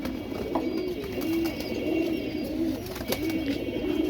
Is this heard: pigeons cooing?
yes